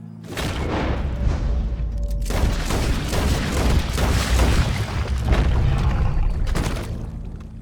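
Gunfire from a revolver-era firearm in Red Dead Redemption 2, a loud booming shot followed by several more heavy reports over a rumbling, tense game soundscape, with no talk.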